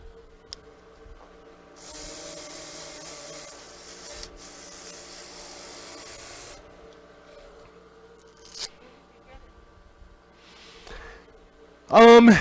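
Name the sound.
sanding a wood turning with a sandpaper tool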